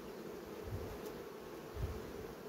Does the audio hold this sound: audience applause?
no